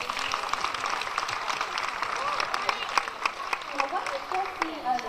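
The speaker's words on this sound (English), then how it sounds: "Shall we give them another round of applause" Scattered clapping from a modest audience after a dance performance, uneven and sustained, with some voices mixed in.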